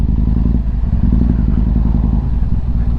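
A Yamaha MT-01 motorcycle engine runs loud and close, a steady low rumble with rapid pulsing throb and some rattling, no voices.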